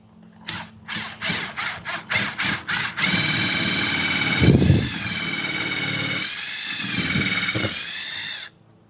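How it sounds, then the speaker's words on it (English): A power drill with a 1/8 inch bit bores holes into the back of a wooden cabinet piece: about ten short whirring pulses, then one long steady drilling run that winds down at the end, close and clear, with no talk. "I'm using a 1/8 drill bit to drill the holes into the back of the piece."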